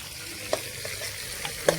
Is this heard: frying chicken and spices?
yes